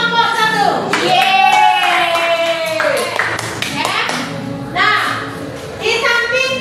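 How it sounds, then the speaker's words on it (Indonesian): Scattered clapping from a classroom group applauding group 1 during a teaching practice session, mixed with children's voices and speech, fairly close and intermittent. "Tepuk tangan untuk kelompok 1."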